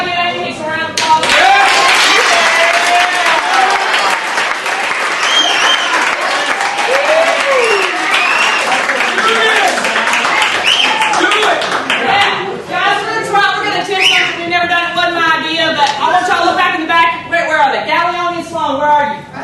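An audience in a chapel service claps steadily for nearly twenty seconds while cheers and whoops rise over the applause, with voices calling out throughout.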